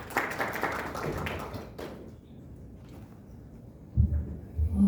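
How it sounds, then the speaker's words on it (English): Audience applause at a hospital event in India, a scattered patter of hand claps for about two seconds that fades into a quiet room, followed by low thumps near the end. "Ladies and gentlemen, please give a huge round of applause."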